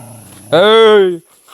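A single dog gives a short, loud, close bark or yelp lasting under a second, with quiet surroundings before and after, at a forest resort.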